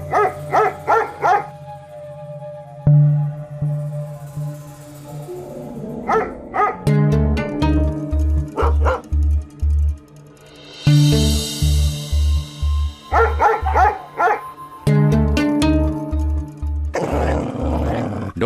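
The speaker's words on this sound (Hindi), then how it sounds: "डोंट वरी बेटा, कुत्ता है," A dog barks in repeated short bursts, close and loud, in several separated clusters with quieter gaps between them, and no talking is heard.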